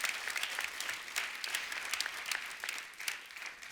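Studio audience at a comedy talk show breaking into loud applause for a guest singer, a dense, bright crackle of many clapping hands sustained evenly throughout with slight swells.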